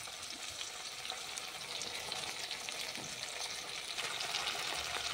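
Fried potatoes sizzle in a pan as ground spice paste is added, a steady moderate crackling hiss with small stirring bursts and no voices.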